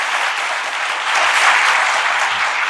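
Loud, dense applause from an audience at a French-language awards show, a steady wash of many hands clapping that swells slightly halfway through and continues without a break.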